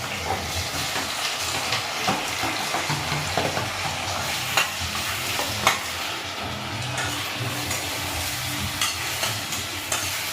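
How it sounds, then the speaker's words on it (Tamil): Onions and tomatoes fry over a high flame for fish curry, a steady close sizzle with scraping stir strokes and occasional sharper crackles throughout, no voices. "ஹை ஃப்ளேம்ல வச்சு நல்லா வறுத்துக்கோங்க."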